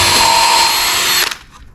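A power drill bores holes in metal for homemade jack stands, a loud steady whine running near and alone for over a second before cutting off and winding down.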